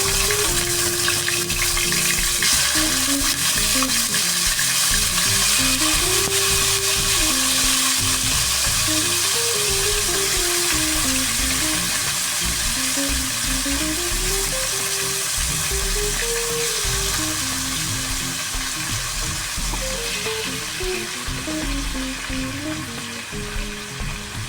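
Chicken fries steadily in a pan, giving a constant crackling sizzle, with a faint tonal hum underneath throughout.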